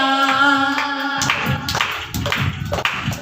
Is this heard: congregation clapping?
yes